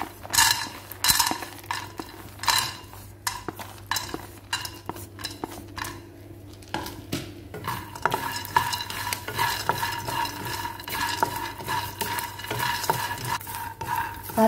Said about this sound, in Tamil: இப்போ வந்து இதில் வந்து நம்ம எடுத்து வச்ச இந்த வேர்க்கடலையை போட்டு நம்ம வறுத்துக்கலாம்.